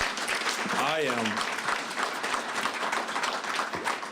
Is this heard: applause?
yes